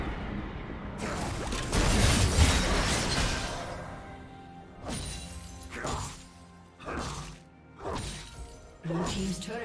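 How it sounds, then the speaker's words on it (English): A turret being destroyed in League of Legends, with a heavy crash and shattering burst, followed by several shorter whooshing impacts in a rhythmic series, loud and close. "Blue team's turret has been destroyed."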